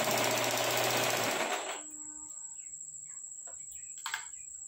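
A sewing machine stitches velvet fabric for an XL scrunchie, running in a loud rapid whir for under two seconds before stopping, followed by quiet background with faint chirps.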